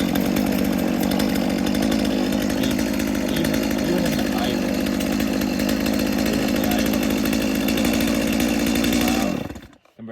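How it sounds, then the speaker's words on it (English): A Stihl MS 162 chainsaw running close by at a steady, even buzz for about nine seconds before cutting off abruptly at the end. "it's a really nice saw, really smooth, really quiet too"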